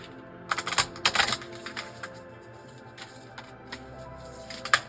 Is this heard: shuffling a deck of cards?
yes